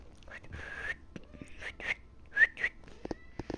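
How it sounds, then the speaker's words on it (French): A person whistles a few short, bright, rising notes in a quiet room, the phrases broken by pauses and soft breaths, fairly close and unaccompanied. "En plus, c'est moi qui siffle."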